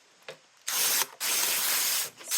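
Several short hissing sprays of Dawn Power Wash burst from a spray bottle close up, with a faint click before the first and gaps between bursts.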